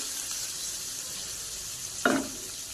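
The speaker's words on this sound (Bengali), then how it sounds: "তো এদিকে আমি গোটা জিরে দিয়ে দিলাম, পেঁয়াজটাও দিয়ে দিচ্ছি।" Whole cumin and chopped onion frying in a pan, a soft, steady sizzle close by, with a short knock of a utensil near the end.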